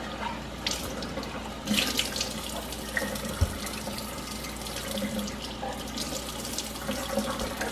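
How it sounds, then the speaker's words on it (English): Bell peppers are rinsed under a running kitchen tap, a steady close splashing stream into a sink with occasional knocks and handling sounds. "as I am rinsing these, you see that I'm putting them in my pan."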